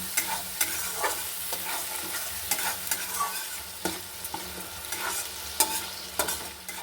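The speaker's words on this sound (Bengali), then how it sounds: "মশলাটাকে ভালো করে কষিয়ে নিচ্ছি দেখুন মশলায় তেল ছেড়ে দিয়েছে" Spice paste with turmeric and salt sautéed in oil for a boal fish oil-jhal curry, a steady sizzle broken by frequent sharp scrapes and clacks of a spatula stirring in the pan, close and continuous with no talking.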